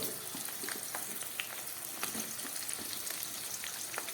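Ridge gourd and pointed gourd fry in oil in a pan, giving a soft, steady sizzle dotted with small crackling pops, heard close but quiet, with no talking.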